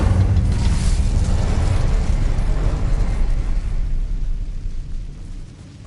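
Incendio fire spell erupting in the video game Hogwarts Legacy: a loud, explosive burst of flame that roars at first and then slowly fades away.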